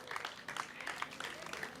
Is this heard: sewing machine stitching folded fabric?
no